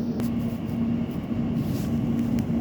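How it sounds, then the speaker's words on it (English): An Elizabeth line train pulling away from Canary Wharf toward Abbey Wood makes a steady low rumble with a sustained electric whine, heard from inside the carriage. "Train now leaving."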